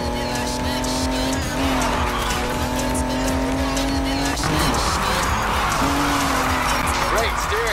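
A car drifts in the NFS Heat racing game, engine droning loudly with sustained tire squeal through a long slide, while someone talks over it.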